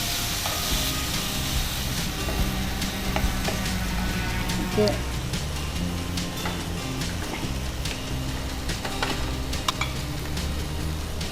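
Chicken pepper sizzling in a pan, a steady close frying hiss with small spits and occasional stirring clinks, and soft talk now and then underneath.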